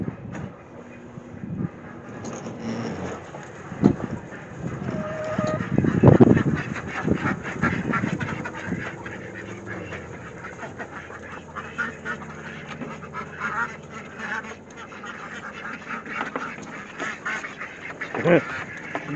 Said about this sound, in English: Watching chicken ducks make a run for it.